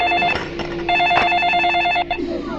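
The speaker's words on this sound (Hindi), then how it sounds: "फोन लगा उसको, फोन लगा सक्सेना को।" A telephone rings out as a call is placed in a Hindi comedy film scene, two bursts of a steady electronic ring with a short gap between, loud and near, with some voice sound behind.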